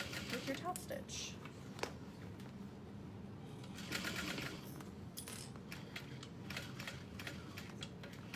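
A sewing machine runs a steady top stitch around the outside edge of an Annette satchel, its needle mechanism whirring and ticking continuously at close range with small changes in pace.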